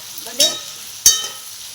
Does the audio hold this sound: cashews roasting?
yes